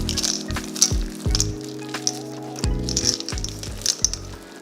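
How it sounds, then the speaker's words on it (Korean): Chocolate melting in a bowl over gently simmering water is stirred quickly by hand, making repeated scraping strokes against the bowl with faint bubbling beneath, close and steady with no talking. "초콜릿은 들어가자마자 바로 빠르게 저어주세요"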